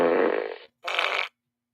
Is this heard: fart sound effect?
yes